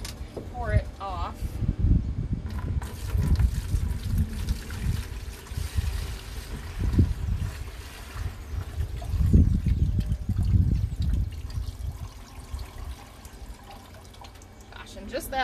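Water pours and splashes off a heavy, wet wool fleece being washed, in uneven gushes, with drips and trickles fading toward the end, close up.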